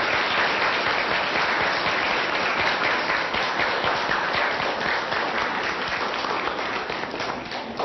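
Audience applause fills a school assembly, a dense steady clapping from many hands that holds for the whole stretch, fading only slightly at the end.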